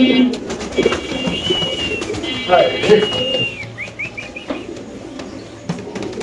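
Caged pigeons, males and females kept together, coo in low throaty bursts with occasional higher chirps and a brief wing flutter, close and fairly loud against a busy background.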